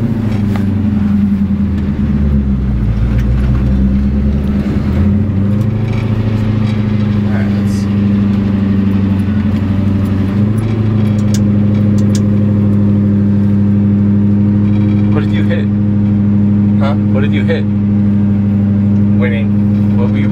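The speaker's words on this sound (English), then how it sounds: "Does this thing like burn out or drift or anything?" A car engine revs hard and steadily on a cold day during a burnout attempt, its loud droning tone holding throughout while people talk over it.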